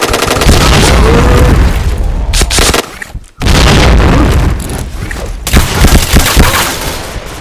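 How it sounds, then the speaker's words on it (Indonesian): A bomb explodes in the shooter game Point Blank amid dense gunfire: loud, continuous booms and rattling shots with a brief drop out before the barrage resumes. "Bomnya langsung meledak ya."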